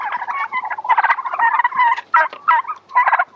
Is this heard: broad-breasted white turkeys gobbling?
yes